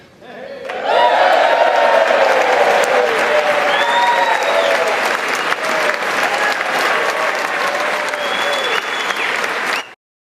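Loud, sustained applause with cheers and whoops fills the US Congress chamber, a dense roar of clapping that holds for about nine seconds before stopping abruptly.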